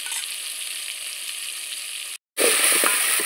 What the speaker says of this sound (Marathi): हा मसाला छान आपल्याला परतून घ्यायचा आहे.